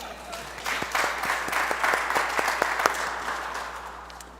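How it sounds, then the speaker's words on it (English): A church congregation breaks into steady applause, dense clapping swelling and then gradually fading out over a few seconds. "You need to applaud for that."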